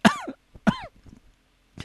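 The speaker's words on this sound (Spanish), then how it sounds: "Tienes como tos." Two harsh coughs in quick succession, close and loud, followed by quiet breathing and the start of another cough.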